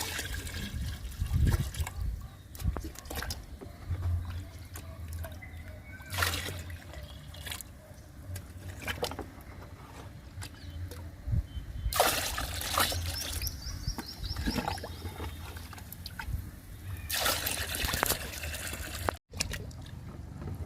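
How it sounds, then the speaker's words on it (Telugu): Raw cow dung liquid is poured from a mug into water, giving trickling, splashing pours in a few separate bursts over a quiet background, with occasional handling knocks. "ఈ లిక్విడ్ని కూడా 2 మగ్గులు పోసుకుందాము."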